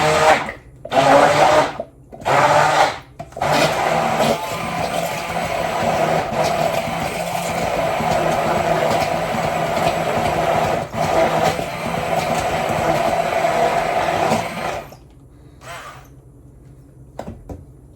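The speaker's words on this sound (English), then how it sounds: "put it in the blender" A blender whirs loudly for several seconds after a few short pulsed bursts, then cuts off abruptly, leaving a quiet room.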